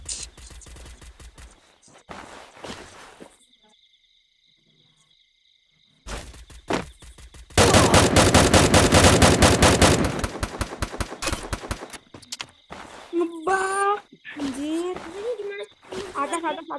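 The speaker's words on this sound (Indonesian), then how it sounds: "Kayak ada yang nembak." Video game gunfire crackles in bursts, with single shots, a long loud rapid volley and scattered later shots, all near and loud, while people talk and exclaim over it.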